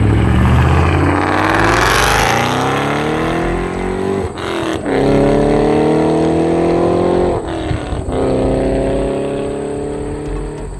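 A Ford GT500 engine revs up and accelerates hard on a country road, pitch climbing through several gear changes, loud, close and dominant throughout.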